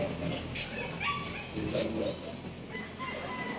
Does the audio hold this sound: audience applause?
no